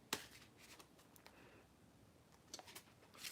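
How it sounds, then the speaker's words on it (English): A tarot card deck is shuffled, giving faint, quick papery riffles and flicks: a short burst at the start, quiet rustling, then a few more crisp bursts near the end. "I'm just shuffling this deck, minding my business."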